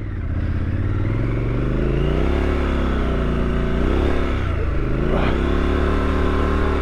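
A 2023 Triumph Scrambler 1200XE adventure motorcycle ploughs through deep sand, its engine droning loud and close as the revs rise and fall, with gritty scraping and clatter over the constant rumble.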